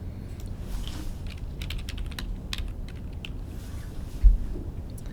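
Typing on a computer keyboard, close and steady, with quick irregular key clicks over a low background rumble and a single louder knock near the end.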